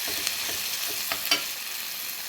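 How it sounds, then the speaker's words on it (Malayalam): River crab roast masala sautéing in a pan makes a close, continuous sizzle, with a few light spatula taps and scrapes through the short stretch and nobody speaking. "ഇത് നന്നായിട്ട് വഴന്നുകൊണ്ടിരിക്കുകയാണ്"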